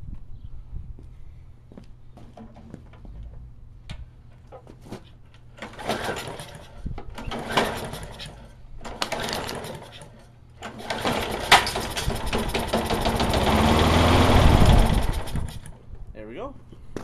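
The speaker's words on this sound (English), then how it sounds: "It runs. It was obviously running on low idle." A Briggs & Stratton small engine, a fault-checked unit on a racer project, sputters and then runs at low idle, building to a loud, steady rough chug near the end after a few brief bursts and clatter.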